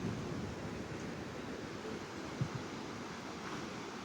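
River water rushes downstream below the Niagara Whirlpool Aero Car, a steady broad roar heard from above with wind buffeting the microphone.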